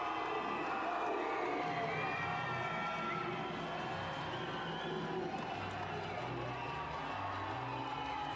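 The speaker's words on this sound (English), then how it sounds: "you can hear the crowd cheering" Arena crowd cheering and roaring steadily as a hometown fighter makes his ring walk, a dense continuous wall of voices with scattered shouts and whoops at a boxing event in El Paso.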